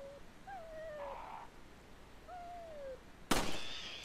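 A bird in Resident Evil 4 gives two clear descending hooting whistles over quiet game ambience, then a sudden loud blast near the end that tails off into a rumbling hiss.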